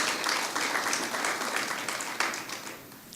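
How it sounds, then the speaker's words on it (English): A ceremony audience applauds health workers at a diplomatic week opening, steady dense clapping sustained throughout with a brief louder swell near the end. "Give our health workers a round of applause."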